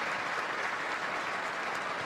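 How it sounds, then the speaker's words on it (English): Football stadium crowd applauding goalkeeper Fraser Forster as he leaves the field, a distant, even roar of clapping from thousands of fans, steady and unbroken without individual claps standing out. "Warm applause for Fraser Forster as he leaves the field"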